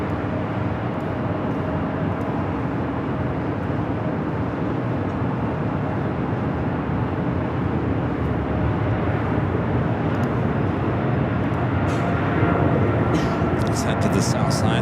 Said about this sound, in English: To the south side, that 777 freighter rotating.